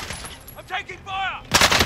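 Gunfire in Call of Duty: Modern Warfare, a loud burst of shots near the end after synthetic radio voice and electronic tones.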